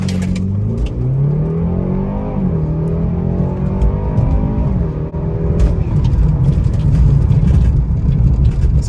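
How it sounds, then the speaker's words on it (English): A tuned Stage 1 BMW B46/B48 four-cylinder car launching hard from a standstill at a red light, its engine revving loud and close as the pitch climbs through the gears, with a brief dip at a shift. "once it turns green, we'll give it a quick launch and see what it feels like from a dig"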